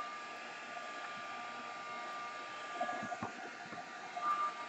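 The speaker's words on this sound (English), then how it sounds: "if you haven't used these heat guns, just a little tip is keep it moving" Heat gun blowing over drying paint on an art canvas, a steady fan roar and whine holding level throughout, with a few soft knocks and shifts near the end.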